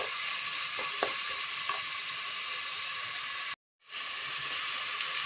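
Onions sautéing in a pan while cooking hotel-style chicken kuruma give off a steady, even frying sizzle throughout, with a few faint clinks, then a brief break of silence before the sizzle picks back up. No one speaks.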